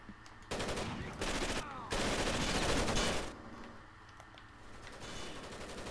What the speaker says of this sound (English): I have a heavy machine gun, but it's going all over the fucking place.